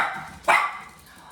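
Puppies indoors let out a single sharp yip or bark, loud and close, that fades quickly into quiet room noise.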